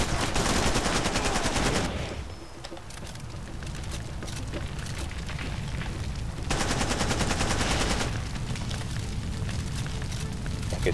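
Sustained, loud automatic gunfire from a Far Cry 2 firefight, heavy bursts for about two seconds, a quieter stretch with distant shots, then another dense barrage and continued firing to the end.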